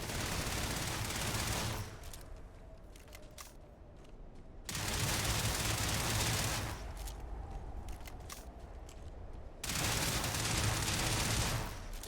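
Gunfire in the space game Starfield comes in three sustained loud bursts of rapid automatic fire, each lasting around two seconds, with quieter pauses of ambient game sound between them.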